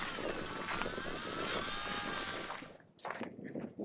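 An E-flite Spitfire MkXIV RC plane flies overhead with a steady whining electric motor and propeller drone, holding level and then fading away sharply as it passes out of range, with faint outdoor noise after.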